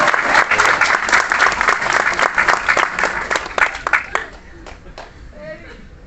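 Audience applause at a Holi gathering and comic poetry recital, dense loud clapping for about four seconds, then thinning into scattered claps with voices beneath.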